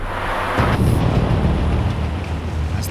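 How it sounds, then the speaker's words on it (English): Torrential rain from a thunderstorm hammers an aircraft in flight, a dense steady roar of downpour with a low rumbling swell of thunder near the start, loud and continuous with no voices. "torrential rain batters the plane"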